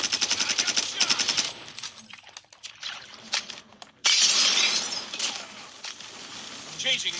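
Call of Duty gunfire in a multiplayer match: rapid automatic bursts up front, then scattered single shots and a sudden loud volley, mixed with other game sounds.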